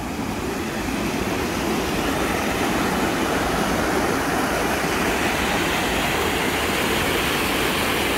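A steady, loud roar of rushing water pours on without pause, full and broadband like a heavy flow over a spillway.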